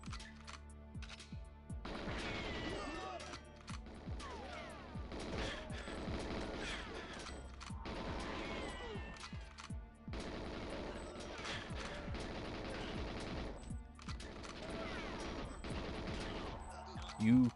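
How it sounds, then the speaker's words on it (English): Gunfire in the video game Donkey Kong 64 played on a Modretro console, several bursts of rapid shots coming in clusters separated by short pauses, with game sound effects mixed underneath. "Taking pot shots."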